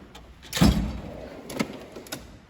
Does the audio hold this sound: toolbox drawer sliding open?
yes